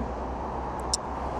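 Highway traffic rushes past as a steady, low broadband roar of cars, with a brief faint high squeak near the end.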